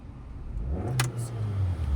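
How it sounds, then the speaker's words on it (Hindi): A parked car's engine gets revved hard during a beginner driving lesson. The engine note rises and swells, with a brief clatter near the middle, and stays loud and close to the end. "आपने बहुत ज़्यादा एक्सीलेटर खड़ी गाड़ी पे मार दिया ना"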